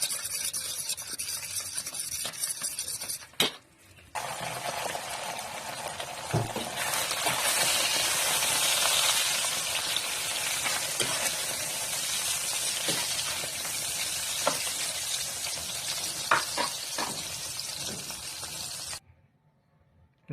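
Beaten egg fries in a pan and is stirred, a steady close sizzle with scraping stir strokes and light clinks, ending in a sudden drop to quiet.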